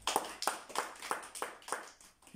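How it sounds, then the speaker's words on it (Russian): A congregation at a church service claps in an even rhythm, about seven sharp group claps at a steady tempo, close and fairly loud with no talking over them. "Давайте похлопаем."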